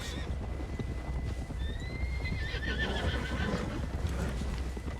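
A horse in the video game Red Dead Redemption 2 whinnies loudly, with clip-clop hoofbeats running steadily underneath and open outdoor ambience around it.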